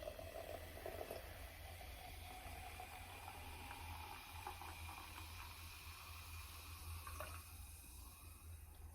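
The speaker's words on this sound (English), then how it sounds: "Let me just pour our drinky." A drink is poured in a steady, quiet hiss and trickle of liquid that runs continuously, close by and without talk.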